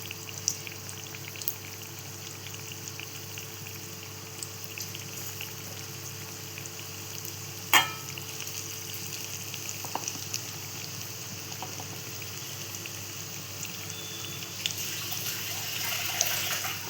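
Alibag-style kadaki bhaji deep-fry in plenty of hot oil, producing a steady, bubbling hiss with one sharp knock midway and a swelling fizz near the end, with no speech.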